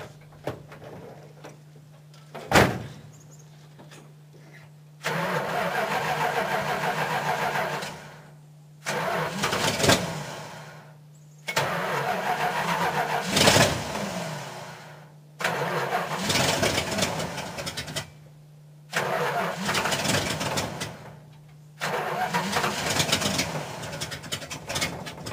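An old truck engine cranks and fires up several times in succession, each start settling into a rough idle before cutting off, with pauses of near silence between the repeated bursts.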